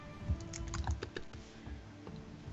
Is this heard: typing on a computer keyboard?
yes